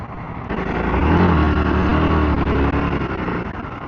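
An EBR Buell 1190SX V-twin sportbike accelerates: a loud, close engine note swells and climbs steadily in pitch, with a throbbing roar that holds for several seconds.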